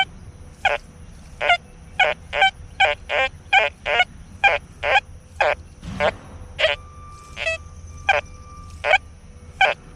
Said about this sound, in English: That high tone is just a chirp. That's iron falsing